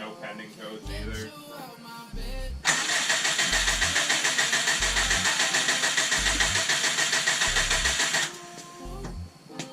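A Subaru engine cranks for several seconds without catching, a steady rapid whirring churn with rhythmic low pulses, close and loud, framed by quieter noise before and after the crank.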